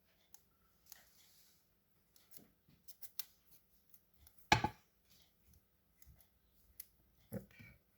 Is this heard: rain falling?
no